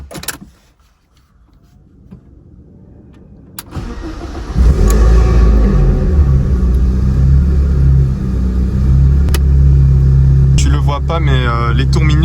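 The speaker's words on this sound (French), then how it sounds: "On va un petit peu rouler là dans le parking." A BMW E36 328i in a parking lot: after a quiet start with a few clicks, the engine catches and settles into a loud, close, rumbling idle with revving, while people talk nearby.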